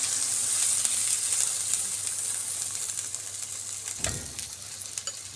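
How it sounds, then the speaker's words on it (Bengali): Fish curry (chorchori of river fish with mustard) is stirred in a pan after water is added, giving a steady close simmering hiss with one louder scraping stir near the end, no talk. "সুন্দর করে নাড়াচাড়া করব।"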